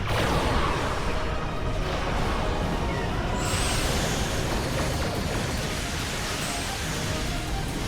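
Torpedo spread fired in the space combat game Star Trek Online, a broad continuous whooshing roar with a faint rising streak partway through, loud and steady throughout with no talk.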